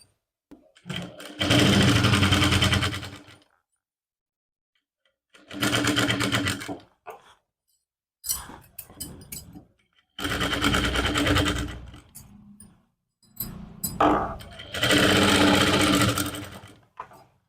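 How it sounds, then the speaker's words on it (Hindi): Sewing machine stitching the neckline of a lined suit, loud close whirring in several bursts of a second or two separated by pauses, with brief handling clicks between runs. "खोलने के बाद इसके ऊपर से हम एक सिलाई लगाएंगे।"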